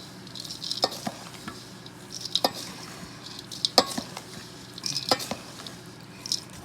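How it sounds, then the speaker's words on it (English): A spoon stirs superfood breakfast bar ingredients in a bowl, giving scattered scraping clinks and soft sticky swishes at close range with no talking. "I'll just mix it up till it's nice and incorporated in"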